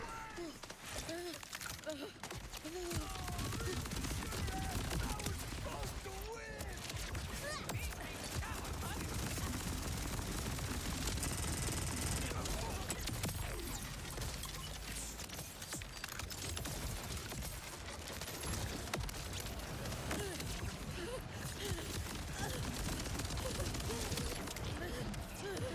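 A gun in Borderlands 4 fires rapidly, making dense, continuous bursts of shots that fill the whole stretch at a steady, loud level over busy game sound.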